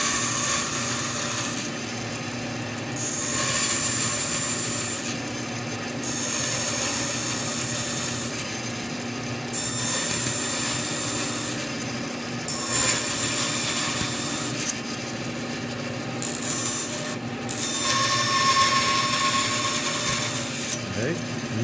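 A saw blade cuts through wood along a marked line in a school workshop, rasping steadily in long repeated strokes with brief pauses between passes. The cutting is loud and close throughout.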